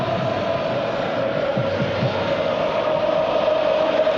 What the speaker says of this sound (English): German crowd bursting into song